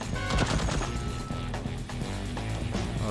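Turret gunfire in Deathloop, rapid repeated shots pounding loud and close in a steady stream for several seconds amid game noise, with no talking.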